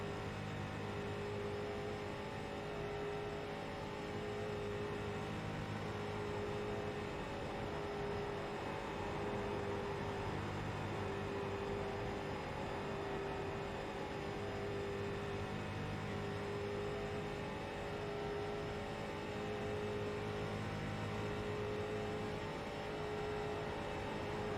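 A race car laps Charlotte in the iRacing sim during qualifying, its engine a steady, sustained drone with faint tonal whine throughout, close and unbroken, with no talk.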